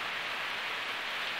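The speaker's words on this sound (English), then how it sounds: "The rain has begun." Rain falls steadily onto the ground outdoors beside a car, a constant broad hiss with no breaks, close and even throughout, with no talk.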